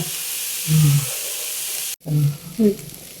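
Chutney ingredients fry in a pan with chili powder added, giving a steady high sizzling hiss. A few short low voiced sounds come over it, and there is a brief cut partway through.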